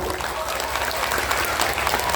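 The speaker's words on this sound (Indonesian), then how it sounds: "Boleh tepuk tangan untuk para perempuan." A seated audience at an Indonesian religious lecture applauds the women, a dense, steady wash of many hands clapping that fills the short stretch evenly, with no voices standing out.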